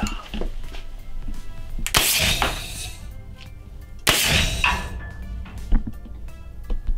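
A Thunder Stick TS68 fires its pellets with a blast of over 110 decibels, giving two sharp, loud reports about two seconds apart, each trailing off in a brief ringing decay over some low background noise.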